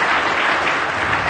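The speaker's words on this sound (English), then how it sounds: "So give yourselves a round of applause" A DEF CON audience gives a dense, steady round of applause, a continuous wash of many hands clapping at once that fills the room without pause.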